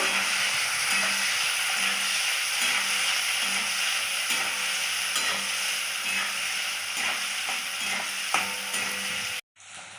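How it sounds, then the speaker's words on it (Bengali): Onions fry in a pan with a steady, loud, close sizzle and hiss that runs unbroken for nearly ten seconds, then cuts off abruptly. "এই যে পেঁয়াজটা দিয়ে দিলাম। লাল করে ভেজে নেব।"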